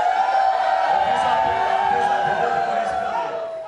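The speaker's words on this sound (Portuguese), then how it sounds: "Discussões, vaias." Striking teachers in a meeting audience in Sinop, Mato Grosso, boo and shout over each other, a loud sustained mass of voices with drawn-out jeering tones.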